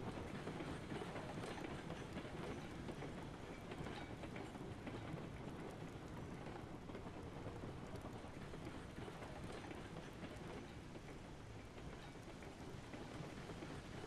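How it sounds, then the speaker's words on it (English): Train rolling along rails in the game Railroads Online, a faint steady rumbling wash with soft clattering running continuously, no voices. "Easy there, train."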